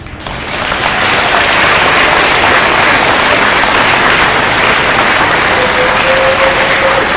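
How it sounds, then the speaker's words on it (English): Steady applause from a large crowd at an elementary school Veterans Day event swells in within the first second and continues evenly, a dense wash of clapping with no pauses. "you can stop clapping now"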